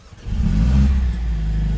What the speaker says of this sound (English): the car comes to life.